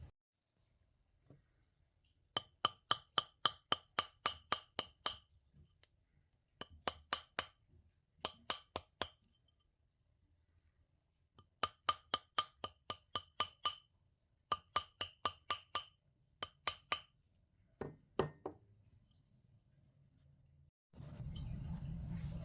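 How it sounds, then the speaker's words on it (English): A hammer taps a wire-wrapped vine ring seated on a metal ring mandrel in quick bursts of sharp metallic strikes, separated by short pauses, close and clear, with a rustle at the end. "I'm going to whack this with the hammer again. I just threaded it back onto our ring mandrel."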